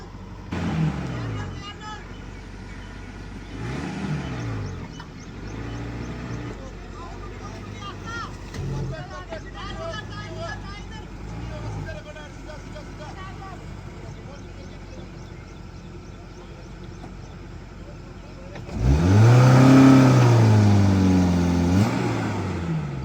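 A Maruti Gypsy off-road with a slipping, worn-out clutch: its engine drones at length under people talking, then surges into a loud, close rev near the end.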